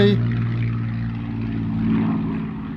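Spitfire fighter aircraft engine droning overhead, a steady loud propeller roar that holds level throughout, with a voice heard briefly at the start.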